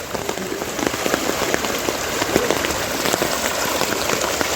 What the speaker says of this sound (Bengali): কি পরিমাণে স্রোত রাস্তার উপরে কি পরিমাণে স্রোত